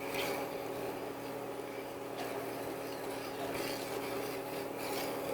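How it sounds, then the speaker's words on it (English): A whisk scrapes steadily around a pan of bechamel sauce being brought to a boil, a continuous close rasping rub with no talk over it. "since I'm whisking constantly"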